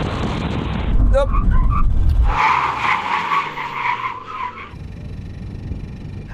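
Sports car tyres lock up and squeal during an emergency brake test as the ABS kicks in late: a loud, sustained screech over engine and road roar that fades into a quieter rumble.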